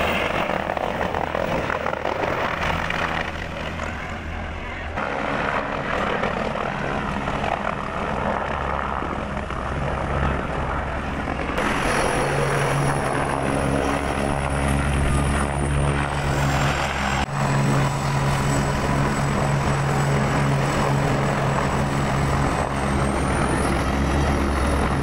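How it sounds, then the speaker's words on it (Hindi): A helicopter runs at the Kedarnath helipad in the Himalayas, a continuous loud engine roar and rotor drone with a high whine that shifts in pitch, near and steady throughout, with no talking. "यहाँ पर जो लोग हेलीकॉप्टर से आते हैं वो उनको यहाँ उतारा जाता है।"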